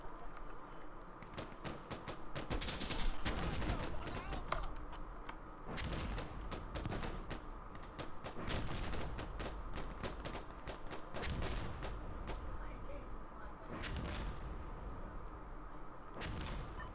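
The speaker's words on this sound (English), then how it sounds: "They're shooting mortars." Gunfire and thudding mortar blasts in the video game Insurgency Sandstorm, a dense stream of sharp shots and bursts over a steady rumbling background, with intermittent louder volleys.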